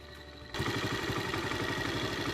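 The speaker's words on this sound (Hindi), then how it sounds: "इसमें बाइक के हेड के अंदर से जो आवाज़ें आ रही थी" A Honda CG 125 motorcycle engine with a head fault starts after a quiet moment and idles steadily with a fast, rhythmic ticking tappet clatter from the top end, close and continuous.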